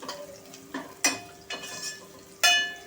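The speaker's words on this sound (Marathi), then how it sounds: "आणि छान असं फ्राय करून घ्यायचं आहे। आलं आणि लसणाचा कच्चेपणा गेला पाहिजे" Ginger and garlic fry in a pan under a soft sizzle, punctuated by several sharp scraping stirs and clinks of a utensil against the pan at uneven intervals, with no voice.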